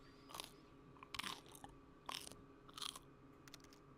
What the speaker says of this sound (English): That's some crunchy pizza.